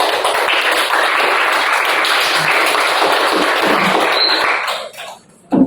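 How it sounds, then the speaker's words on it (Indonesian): Classroom applause for a student group after their presentation, a dense, steady wash of many hands clapping that holds for about five seconds before thinning out and stopping. "Beri aplaus untuk kelompok 1."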